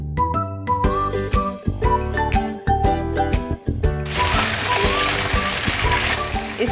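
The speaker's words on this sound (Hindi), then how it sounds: "हम एक एक करके इसमें चिकन डाल देंगे।" Chicken pieces dropped one by one into hot oil in a pan, a series of sizzling hits that builds into steady loud frying, with background music and a voice talking over it.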